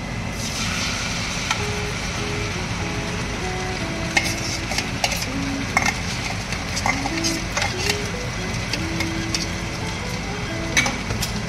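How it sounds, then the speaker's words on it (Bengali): Spinach paste fried in oil in a wok for spinach pasta: a steady hissing sizzle runs throughout, broken by repeated scraping and knocking stirs of a utensil against the pan, close and moderately loud. "দিয়ে পালং শাকটাকে কিছুক্ষণ তেলে নেড়ে নেব, 1-2 মিনিট মতো।"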